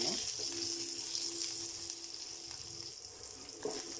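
Small onions sautéing in a pan for a mint and coriander chutney, a steady close hiss of sizzling oil running the whole time with faint clinks of stirring.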